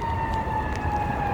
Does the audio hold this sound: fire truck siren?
yes